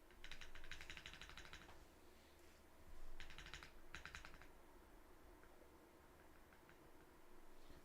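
Light taps on the keys of a Geistmaschine Tailored Edition keyboard checking for rattle, short quick bursts of clicks in two clusters separated by quiet gaps, close and faint.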